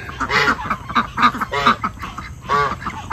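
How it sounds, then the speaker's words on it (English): Backyard ducks let out into the yard quack in loud, close bursts, four or five ragged honking calls spaced unevenly over a few seconds, with no talk over them. "Silly ducks."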